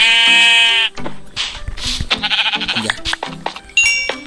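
Sheep in the Minecraft video game bleat several times in a row, loud and close, with a long harmonic bleat at the start and shorter bleats and in-game clatter after it.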